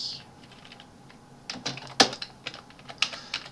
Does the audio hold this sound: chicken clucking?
no